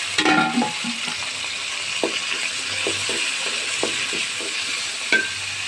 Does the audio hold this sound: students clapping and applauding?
no